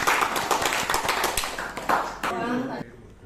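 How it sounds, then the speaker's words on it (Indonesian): Classroom applause for a student group about to present, a brief scattered clapping from several people that thins out under a speaking voice. "Tepuk tangan untuk kelompok"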